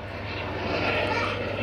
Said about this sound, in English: Got the police helicopter looking for someone.